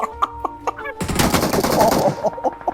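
Gunfire in the PUBG Mobile video game: a few separate single shots, then a loud, dense burst of rapid automatic fire that tapers off into scattered final shots.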